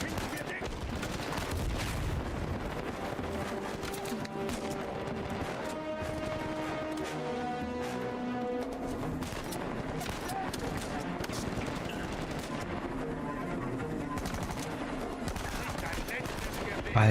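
A tank battle in the video game Uncharted 4 brings dense, continuous gunfire and explosions under a constant roar, with voices speaking over the combat.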